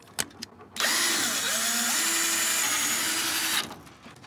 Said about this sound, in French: Un travail comme ça, c'est énorme pour une perceuse.